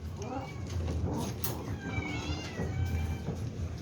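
Several pet cats meow repeatedly at feeding time in a dim home, with overlapping high wavering cries close by against steady background noise and faint clatter.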